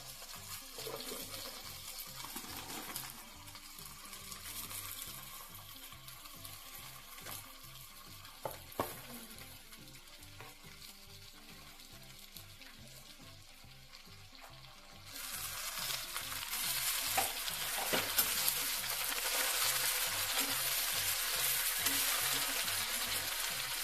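Gongura (sorrel) leaves frying in oil in a pan for a North Karnataka-style chutney, stirred throughout with a steady sizzle that grows louder and brighter about halfway through, with occasional utensil scrapes and no talk.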